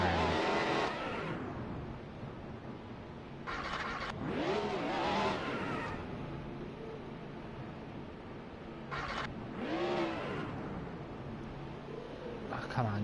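Car engine cranked and revved at a New Hampshire track, with repeated rising and falling revs in several bursts, loud and close, while people talk nearby.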